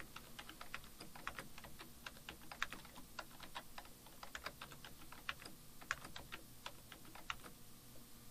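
Steady typing on a computer keyboard, quick irregular key clicks close by with occasional louder taps, no voices.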